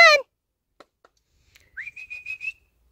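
A person whistles close by to call a dog: a rising note, then a run of short, quick repeated pips, with silence around them.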